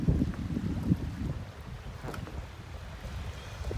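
Strong wind buffets the microphone by the sea at a pier cafe in Pattaya, a steady low roar with gusty surges and a faint wash of water beneath it, no voices present.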